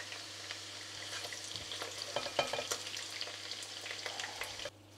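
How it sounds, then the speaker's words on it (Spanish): Chicken pieces sautéing in oil in a pot for a chickpea and chicken stew, a steady crackling sizzle broken by irregular scraping stir strokes, close and moderately loud with a low steady hum beneath, cutting off just before the end. "Lo vamos a saltear hasta que esté doradito"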